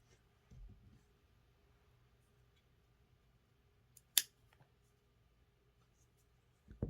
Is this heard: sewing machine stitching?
no